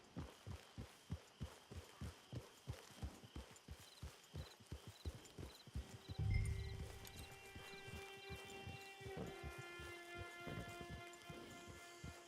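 Horse hooves clip-clop in Red Dead Redemption 2 at a steady walking rhythm, close and crisp, then fade as a low thump and sustained tonal ambience take over, with no talking.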